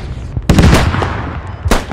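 Artillery and gunfire in the Squad video game, from a 40 vs 40 battle. A heavy blast lands near the start, a second loud impact follows, and faint rumbles and cracks sit between them.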